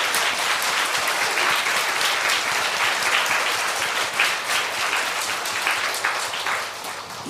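A church congregation applauds together during a Sunday morning service, steady dense clapping from many hands at close range that keeps going for the whole stretch, with the volume only dipping slightly toward the end.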